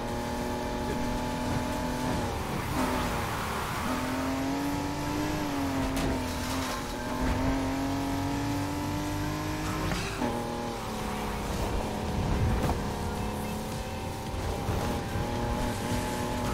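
A race car in the Need for Speed Heat video game holds a long drift, its engine droning loud and steady with a wavering, rising and falling pitch over constant tire squeal, without any speech.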